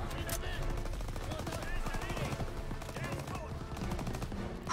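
Rapid bursts of machine gun fire in Call of Duty: WWII crackle continuously, with voices talking over the shooting.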